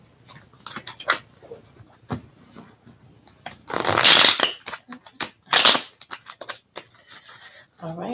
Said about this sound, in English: let's do one final shuffle.